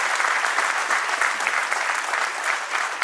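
An audience at a Maharashtra Chamber centenary celebration and headquarters inauguration claps loudly and continuously, a bright, dense wash of applause sustained from start to finish.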